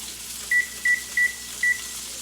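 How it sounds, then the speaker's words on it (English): A kitchen timer being set, giving four short, clear electronic beeps at uneven intervals against a quiet room background. "I'm gonna set the timer."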